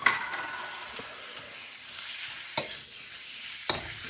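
Meat sizzles as it is dropped into a hot stir-fry pan with garlic for an Americanized bami goreng, a steady frying hiss broken by a few sharp crackling pops.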